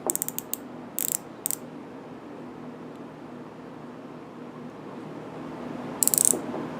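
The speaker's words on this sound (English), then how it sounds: "I'm going to tighten my mic up using the ratchet." A micrometer's ratchet thimble is turned to tighten it, giving a few quick bursts of fine clicking near the start, another pair about a second later, and a final cluster near the end, over quiet room hiss.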